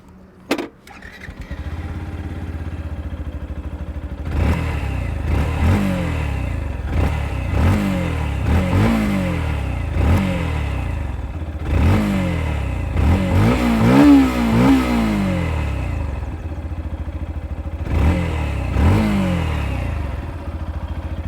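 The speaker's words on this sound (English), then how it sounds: "the engine here is the familiar 149cc SOHC 2-valve air cooled unit" A Yamaha FZ-X's 149cc single-cylinder air-cooled engine putters and revs repeatedly while riding, pitch rising and falling in cycles through gear changes, close and steady.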